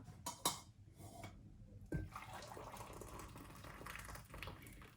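Cooking water drained off freshly boiled potatoes that will be mashed: a few lid and pot clanks, then a steady stream of water pouring and splashing close by, with no talking.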